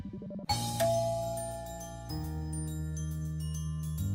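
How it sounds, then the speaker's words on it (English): A doorbell chime from a visual-novel dating game rings out in bright, sustained, bell-like tones over soft background music, close and clear, for a few seconds. "I've always liked the little chime that rings out whenever someone comes to visit me."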